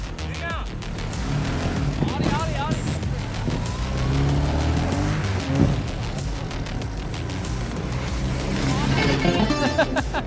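A Moskvich car driven during a car giveaway contest, its engine droning steadily and loud with a busy broadband roar throughout, while people talk over it.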